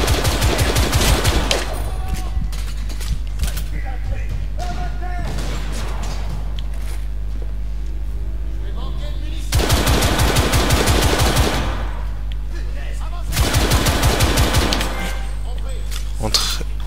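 Automatic gunfire in the video game The Order, loud sustained bursts of rapid shots in several rounds separated by quieter stretches of game ambience.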